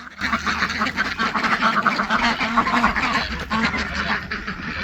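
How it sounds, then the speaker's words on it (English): Jumbo ducks quack repeatedly at close range, a steady run of nasal calls with a faint voice now and then in the background. "I think the big one's quacking."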